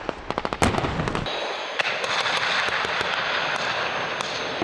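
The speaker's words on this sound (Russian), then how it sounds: "были проведены боевые стрельбы подразделений морской пехоты и ВДВ из автоматов, гранатометов и крупнокалиберных пулеметов" Rapid bursts of automatic rifle and heavy machine gun fire crack in quick succession at a military exercise of marines and airborne troops, followed by a loud sustained rush and scattered sharp shots echoing in the distance.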